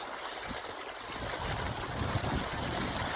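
Irrigation water rushes steadily along a full farm channel, a continuous turbulent gurgle and splash up close, with wind-like noise over it.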